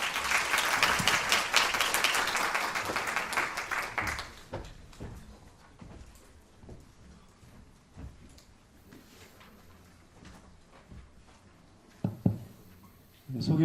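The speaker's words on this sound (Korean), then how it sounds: "큰 박수 부탁드립니다." Audience at a policy forum on Gimpo's education development zone breaks into loud, dense applause for a presenter, which fades after about four seconds into scattered claps, room noise and a few sharp knocks near the end.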